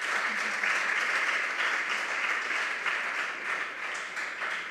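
Audience applause at a junior high school competition event, a steady dense wash of clapping from a crowd that holds evenly for several seconds without speech over it.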